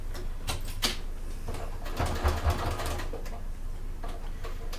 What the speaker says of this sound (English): do a few stitches off that bulk.